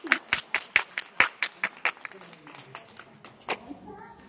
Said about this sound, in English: So let's give these ladies a round of applause.